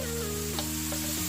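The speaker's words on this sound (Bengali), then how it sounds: "এবারে গাজরটা দেব, দিয়ে গাজরটাকে একটু ভেজে নেব।" Grated carrots fry in hot ghee in a pan for gajar halwa, a steady soft sizzle with a few faint stirring ticks over a low background hum, with no talking.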